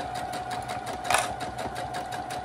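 A sewing machine runs at a steady pace stitching around a double-sided pouch, its needle producing an even rhythmic chatter close by, with a brief louder knock midway.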